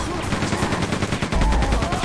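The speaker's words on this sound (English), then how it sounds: "The machine gun's good too." Rapid machine gun fire in the Quake 2 Remastered game, a dense rattling stream of close, loud shots over constant background game noise.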